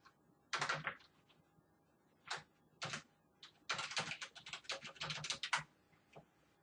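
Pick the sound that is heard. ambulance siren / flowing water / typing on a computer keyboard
typing on a computer keyboard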